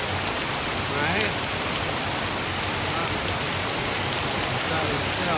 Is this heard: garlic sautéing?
no